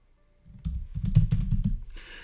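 A computer keyboard being typed on close by, a quick run of roughly a dozen crisp keystrokes in a burst after a quiet start, ending with a brief hissy shuffle.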